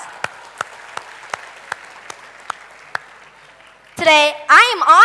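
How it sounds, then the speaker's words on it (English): A short burst of scattered applause at a graduation ceremony for a language center, sparse individual claps for about four seconds, then a voice begins speaking over the end. "let's give ourselves a big round of applause"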